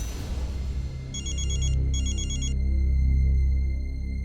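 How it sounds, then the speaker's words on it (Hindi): A phone ringtone trills in two quick electronic bursts over a low, droning background hum, followed by a lingering high tone. "फोन उठा आदित्य, फोन उठा।"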